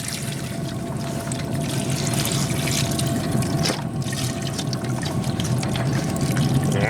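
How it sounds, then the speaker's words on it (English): Beef broth poured over a smoked beef shank for braising, a continuous loud liquid pour and splashing that runs unbroken and close throughout, with no speech. "Now the braising process, we're going to add some beef broth."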